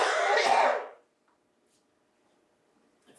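A single close throat-clearing cough bursts out at a selectboard meeting, rough and loud for under a second, then fades into near silence with only faint room noise.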